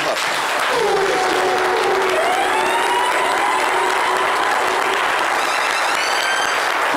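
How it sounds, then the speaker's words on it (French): Sustained applause from a standing studio audience on a French-language talk show, steady and loud across the whole stretch, with scattered cheers and whistles rising over the clapping. "faire 5 secondes d'applaudissements"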